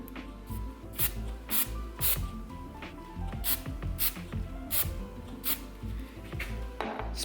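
Repeated short bursts of a spray glue can, about a dozen hissing blasts in an irregular rhythm, close and fairly loud, in a Subaru WRX STi interior.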